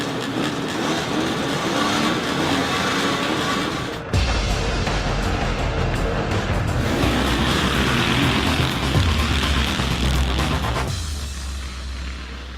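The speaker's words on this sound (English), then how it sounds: "This is a 1973 CZ250." A 1973 CZ250 vintage two-stroke motorcycle engine runs nearby with a loud, dense, continuous drone that jumps in intensity around the middle before dropping back near the end.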